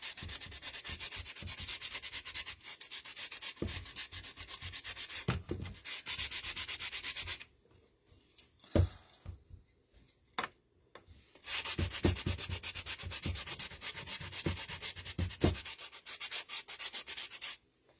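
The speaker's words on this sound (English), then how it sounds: "I'm going to start out by sanding it a little." Rapid rasping strokes of sanding on a metal heart, steady and close, with a pause of a few seconds in the middle before the scrubbing resumes.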